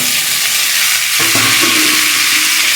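Boiled white chickpeas for sundal sizzle steadily in hot oil, with a few spoon scrapes and clinks near the middle as they are stirred in; no talking.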